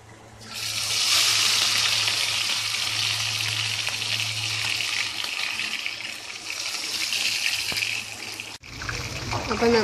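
Prawns dropped into a pan of hot coconut oil, a steady loud sizzling crackle that starts abruptly and runs close up for about eight seconds before cutting off.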